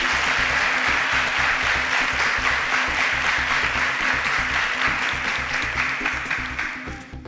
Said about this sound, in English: Please, can we give these SuperSPAKs a round of applause?